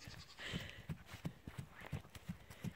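A loose horse's hooves clip-clop in an even walking rhythm of about eight close, quiet steps, with faint background noise.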